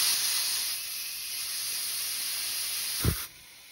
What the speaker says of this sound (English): the way we're going to add pressure is just through my air compressor hose here